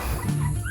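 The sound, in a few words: dogs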